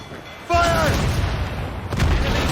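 Naval cannons boom in an Assassin's Creed Rogue sea battle, a loud deep blast followed by a rumbling roar and a second heavy hit, with a voice calling out over the noise.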